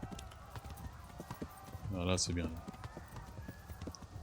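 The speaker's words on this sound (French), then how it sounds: "on a pris le cheval, on galope" Horse hooves gallop in the video game Kingdom Come: Deliverance, a rapid steady clip-clop under someone speaking French throughout.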